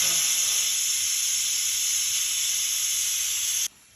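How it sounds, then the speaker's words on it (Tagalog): Steam vents from a pot of cooked chicken with a loud, steady, high-pitched hiss that runs unbroken for over three seconds and then cuts off sharply. "papasingawin ko na siya para lumabas yung"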